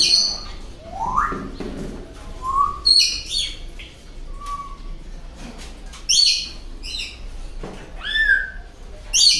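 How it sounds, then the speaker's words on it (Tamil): A caged talking myna at a pet market in Kuwait gives repeated whistles, chirps and squawks over a busy background hum, with several bright calls spread through the passage. "இதில் வந்து பார்த்திங்கன்னா 3வது நம்பரில் பேசுகிற பறவை இருக்குது"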